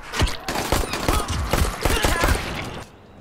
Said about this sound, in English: they open fire immediately